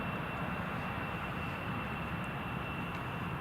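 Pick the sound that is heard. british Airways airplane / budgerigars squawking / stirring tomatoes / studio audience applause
british Airways airplane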